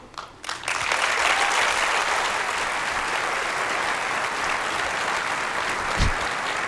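Steady applause from a large audience fills a keynote hall at Apple's WWDC, starting after a brief quiet moment and holding loud and unbroken to the end.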